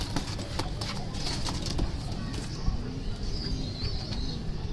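Old-line Chapra breeder pigeons coo softly at close range in a pigeon club, with scattered rustling and handling noises around them.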